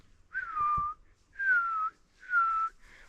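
Three long, clear descending whistles from a person imitating a bird at a pet waxwing's grave outdoors, evenly spaced with short pauses between, close and alone.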